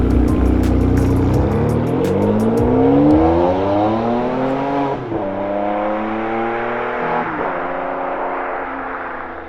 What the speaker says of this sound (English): It is Enzo's motor talking